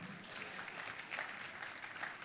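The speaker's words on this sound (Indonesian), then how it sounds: "Kita kasih tepuk tangan." A church congregation claps during a sermon, faint and distant broadband applause that runs evenly without pause.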